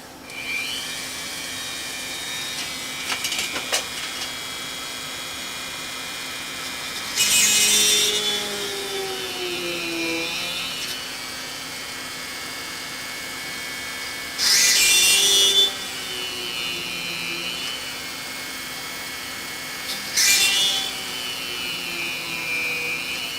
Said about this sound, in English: now I got a small drill here on my Dremel